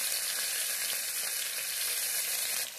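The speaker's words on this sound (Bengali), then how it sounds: "তেলটা গরম হয়ে গেছে, এখন আমি মাছটা ছাড়বো।" Moya fish frying in hot oil, a loud, continuous close-up sizzle with a dense hiss and crackle that holds steady throughout, then eases slightly at the very end.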